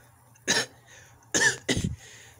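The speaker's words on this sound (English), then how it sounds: "Yeah, and I've also been coughing lately." Three short, sharp coughs ring out one after another, close and fairly loud, with a brief pause before the last two come in quick succession.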